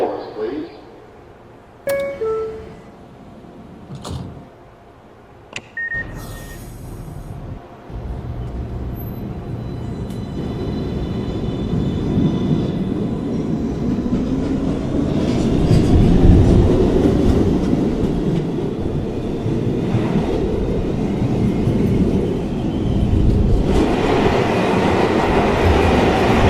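An MTA R262 subway train in a video game, a Manhattan-bound 1 train, rumbles and builds steadily with rolling rail noise. A voice is heard near the start.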